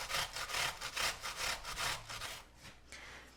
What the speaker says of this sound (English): use the small side of the box grater, or you could use a zester. We want this super finely grated.